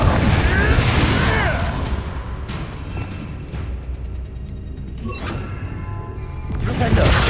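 A Confringo spell explosion in Hogwarts Legacy combat, a loud booming blast with crackling debris that fades into a rumbling tail, followed by further impacts, with voices heard during the fight.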